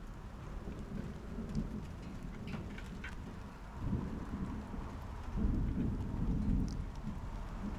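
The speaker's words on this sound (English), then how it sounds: "Yeah, it's starting to rain." Steady rain sets in with low rumbling thunder rolling through, heard outdoors during an air conditioning unit motor repair; broadband patter continues throughout with louder thunder swells toward the end.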